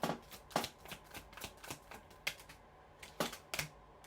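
Tarot cards shuffled by hand in a quiet room, with quick, crisp riffling bursts and taps coming in an irregular rhythm, close and fairly soft.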